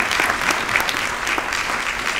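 Audience applause at a film festival Q&A, dense steady clapping from a crowd, moderately loud and continuous.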